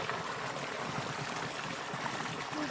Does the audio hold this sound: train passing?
no